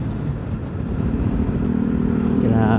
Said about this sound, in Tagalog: Solid talaga mag-testing doon ng motor.